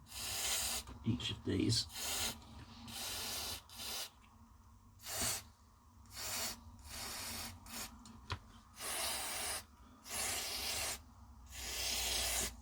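Cleaner sprays through a plastic nozzle into a SCART switch box being repaired, in a run of short close hissing bursts with gaps between them, and a voice speaks briefly.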